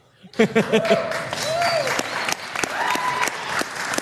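Crowd applause at a live interview event, breaking out loudly and sustained for several seconds, with voices talking over the clapping.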